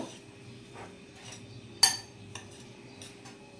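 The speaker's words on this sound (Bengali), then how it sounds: "পুরোটা আমি এর মধ্যে দিয়ে দিচ্ছি। এটা একসঙ্গে একটু মিশিয়ে নেব।" Sweet potato is mixed with turmeric and chili powder in a bowl, with soft scraping and a few sharp utensil clinks against the dish, one louder knock standing out, close by with no talk.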